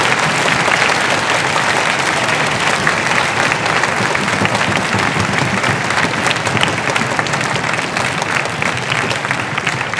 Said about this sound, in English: can we get one more round of applause for Chief Engineman Todd Miller